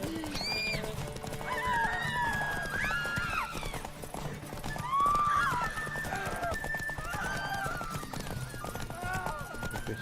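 Horse hooves clip-clop steadily in The Witcher 3 during a horse race, with several whinnies and neighs rising over a busy game soundscape with music-like tones, while someone talks over it.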